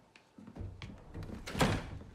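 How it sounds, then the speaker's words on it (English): A door is pushed shut in an office in a film scene, a few soft footsteps and shuffles leading to a muffled thunk, all fairly quiet. "Shut the door."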